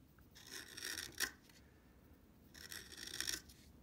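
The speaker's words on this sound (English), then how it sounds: "Now I'm using this gouge, which is very, very sharp." A very sharp gouge shaves a wooden rifle stock from a swivel breech rifle kit, giving two bursts of dry, rasping scraping with a short pause between them, close and alone.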